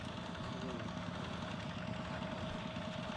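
A farm tractor's engine idles steadily at close range, a continuous low rumble with a faint knocking pulse running without pause.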